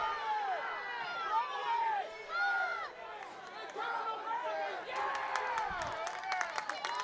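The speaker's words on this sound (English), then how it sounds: "the crowd was yelling and yelling and yelling" A college football game crowd at Cincinnati Christian University versus Cumberland University, yelling and cheering in a steady, echoing roar of many voices, with a few sharp claps near the end.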